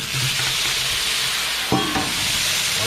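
Pierogies frying in oil on a Blackstone griddle, giving a steady broadband sizzle throughout with a brief scraping clatter near the middle.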